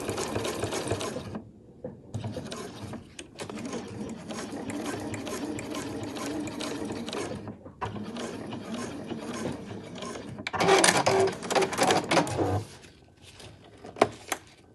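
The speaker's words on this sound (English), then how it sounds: "So I'll just sew a rectangle through layers." Sewing machine stitching a rectangle through several layers of a backpack strap and binding, running in long continuous bursts with brief pauses between passes, fairly close and steady.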